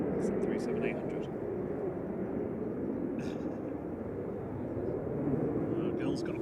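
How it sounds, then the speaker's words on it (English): A Malta Air Boeing 737-800 departs Manchester Airport for Palma de Mallorca, a steady, muffled engine rumble held under intermittent talk throughout. "Right now to Palma de Mallorca, operated by Malta Air, flight 3441, 9H QEE"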